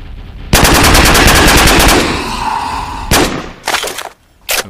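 Loud, rapid automatic gunfire rattles in a sustained burst in the Dino Hunter King hunting game, followed by a few shorter bursts after a brief lull.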